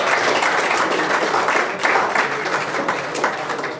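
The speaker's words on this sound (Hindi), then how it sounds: "तालियों से सेमिनार का इफ्तिताह।" Dense applause from a crowd opening a national seminar fills the clip, steady and sustained with slight swells throughout.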